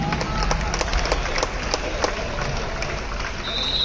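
Crowd applauding to welcome kabaddi players at a senior national kabaddi championship match in Cuttack, Odisha, a steady wash of clapping with a few sharper claps over a noisy hall and some voices.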